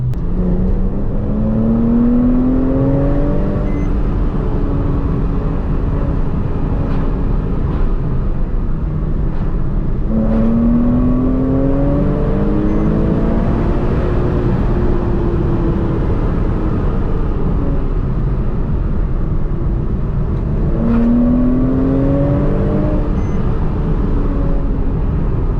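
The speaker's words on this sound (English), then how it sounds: "you requested the sound of my car" A Porsche Cayman sports car engine drones loudly and steadily, rising in pitch through gears in repeated surges, like an interior recording while accelerating.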